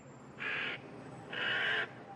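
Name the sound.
loudspeaker bird scarer playing distress cries of attacked birds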